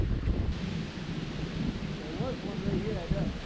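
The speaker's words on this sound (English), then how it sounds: "It's very windy." Strong wind gusts across a lake on a fall fishing trip, a loud low rumbling buffet of wind noise on the microphone with a faint voice speaking briefly underneath.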